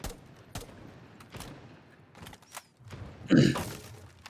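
Gunfire crackles through a competitive video game match in scattered bursts, a few sharp shots spread out over several seconds and one louder blast near the end, with no voices.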